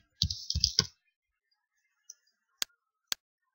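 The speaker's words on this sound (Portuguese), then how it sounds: "Vou dar um Enter." A few quiet keyboard clicks, including the Enter key, sound sharp and isolated after a short burst of faster keypresses at the start, close and otherwise silent.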